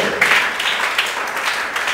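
Brief applause from a church congregation, a steady wash of clapping lasting under two seconds with no clear break.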